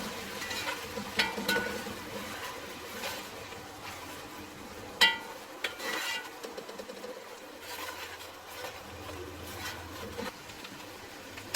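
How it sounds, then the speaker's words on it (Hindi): Beef pulao ingredients for degi yakhni pulao sautéing in a pot: a soft sizzle with stirring scrapes and occasional clinks of a spoon against the pot, close by and without talking. "सिर्फ 2 से 3 मिनट के लिए भूनेंगे।"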